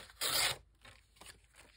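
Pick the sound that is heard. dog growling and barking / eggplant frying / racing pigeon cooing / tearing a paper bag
tearing a paper bag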